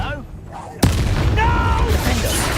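A spell blast from the Hogwarts Legacy video game, one sudden loud boom-like burst that opens into a dense sustained roar, with voices sounding through the battle noise.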